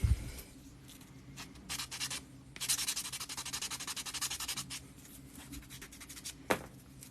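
Sanding against stone to widen a tight hole in a dry stone roadside wall, heard as steady rasping strokes in uneven bursts, close and moderately loud, with no talking.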